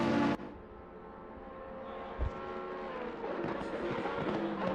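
Porsche and Mercedes race cars in a racing video game, a steady high engine whine that slowly builds and rises, heard at close range with no talk.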